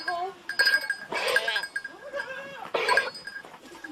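Goats on a family dairy farm bleat several times, with wavering, nasal cries overlapping at close range and short pauses between calls.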